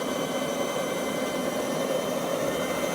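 JetCentral model turboprop turbine engine idling, a steady high whine and rush heard close by, constant and even throughout with no talking.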